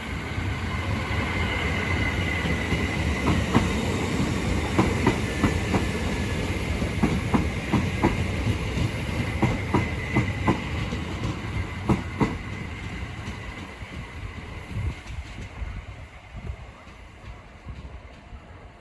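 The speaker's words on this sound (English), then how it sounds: "Now arriving is the 1346 Southern service from London Bridge to London Victoria, being worked by a Class 455" A Southern Class 455 electric train pulls into Sydenham station with a steady rumble and rhythmic clickety-clack of wheels over rail joints, slowing and fading as it comes to a stop.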